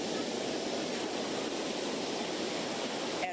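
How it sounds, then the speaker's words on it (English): Ocean waves roll onto the sand at Dockweiler State Beach, a steady broadband wash of surf holding at an even, continuous level from start to finish, with no voices over it. "As waves rolled onto the sand"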